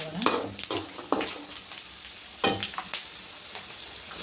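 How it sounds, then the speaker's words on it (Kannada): Peanuts frying in oil in a pan give a steady soft sizzle, broken by a few sharp scrapes and clinks as they are stirred, close by and moderately quiet. "ಶೇಂಗಾನ ನಾನೆಲ್ಲ ಇಷ್ಟು ಹಾಕ್ತೀನಿ. ಇವು ಚೆನ್ನಾಗಿ ಎಣ್ಣೆಗ ಫ್ರೈ ಆಗಲಿ"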